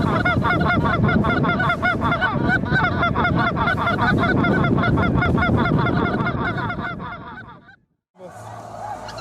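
A flock of geese honks continuously and loudly in a dense, overlapping chorus during autumn migration, then fades to near silence before faint honking resumes.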